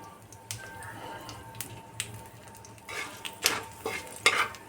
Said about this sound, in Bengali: বাকি তেলে আমি শুকনো লঙ্কা আর সর্ষে ফোড়ন দেব